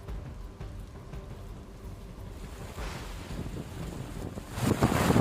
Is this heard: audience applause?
no